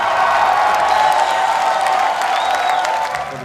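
A concert crowd cheering and applauding after a drum solo at a live show, a loud continuous wash of clapping and shouts with a brief whistle-like whoop.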